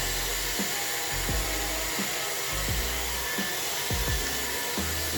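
Dyson Airwrap hair styler blowing air while styling hair, a steady airy whoosh with a high whine, held at moderate level throughout, with soft handling thumps and bumps underneath.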